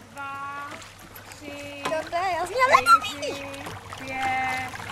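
Someone splashes into water at a mountain resort amid lively voices and children's chatter, a few quick splashy bursts in the middle of the shouting.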